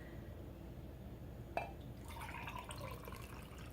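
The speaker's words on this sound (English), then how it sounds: "I'm going to pour this into a glass so you can see." Green juice pours steadily into a glass after a small clink, a soft continuous trickle close by against faint background hum.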